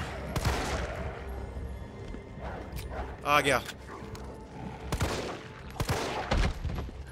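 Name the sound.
gunfire in the video game Resident Evil 3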